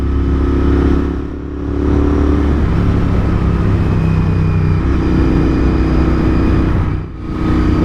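A Royal Enfield Interceptor 650 motorcycle engine runs steadily and loudly up close, with a deep rumble that dips briefly twice before settling back to a constant drone.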